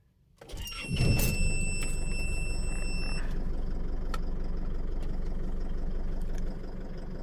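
An Isuzu D-Max diesel engine with a check-engine fault and poor acceleration cranks briefly and catches, then settles into a steady, close, rattling idle that drops slightly near the end.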